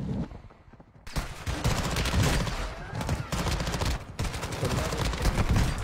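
Dense, continuous gunfire from a video game, rapid overlapping shots and bursts that start abruptly after a quiet second and keep going loud and near for the rest of the stretch.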